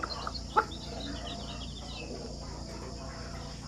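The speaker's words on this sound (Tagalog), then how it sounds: "Nasa mga 150 ata lahat ng mga sisiw ko dito ngayon." Chicks in a poultry house of about 150 birds peep faintly and intermittently during the rainy season, with one brief louder chirp early on over a steady background hiss.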